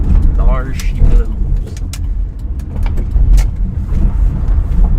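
Car rolling slowly up a gravel driveway: a close, loud rumble of tyres crunching over stones and engine noise, with people talking over it.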